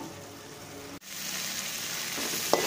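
Tamarind gravy with coriander and curry leaves bubbling in a pan, a continuous close simmering sizzle, briefly interrupted by a quick knock before the hiss resumes.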